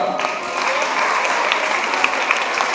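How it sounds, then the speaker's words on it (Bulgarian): Sustained audience applause greets the winners at a Miss Teen beauty pageant, a dense steady wash of clapping hands filling the whole stretch with no voices over it. "Аплодисменти за победителките от Мис Тин."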